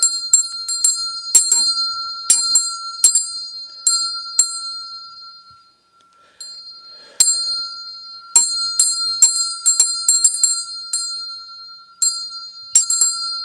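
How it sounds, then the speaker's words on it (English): A bell rings in repeated sharp strikes with bright sustained overtones, in irregular bursts with a brief pause midway, loud and clear with no talking. "ring the bell"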